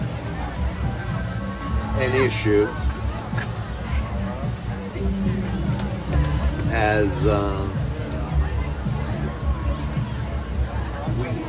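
A crowd gathered along the street for a Christmas parade in New Castle, Pennsylvania, fills the scene with a steady murmur of chatter, with a few nearby voices rising briefly above the babble.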